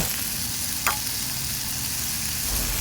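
Daing, salted dried fish, sizzling in oil in a pan outdoors in front of a house in Canada on a summer day, a steady, close crackle and hiss running evenly throughout with one brief sharper spatter.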